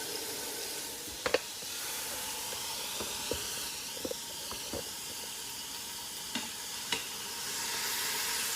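Pork frying in a pan while char siu is being made, a steady bright sizzle and hiss with a few soft clinks and stirring knocks, fairly quiet and heard close up without talk.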